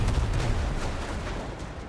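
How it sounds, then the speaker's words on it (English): Gunfire from the video game Command & Conquer 3: Tiberium Wars comes as a dense, continuous barrage of crackling shots, loud and close, with a heavier rumble at the start. "Is that you I hear shooting?"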